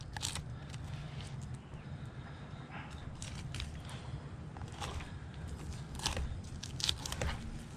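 Knife cutting through a sheepshead fish along and around its rib cage, with soft crunching and crackling of flesh and bone under close scraping noises, fairly steady with a few sharper clicks near the end.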